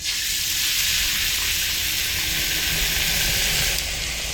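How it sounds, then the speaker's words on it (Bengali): Besan-coated sandwich pieces frying in hot oil in a wok, giving a constant bright sizzle at a steady level throughout, with no voices. "এবার কড়াইয়ের তেলের মধ্যে দিয়ে দেব।"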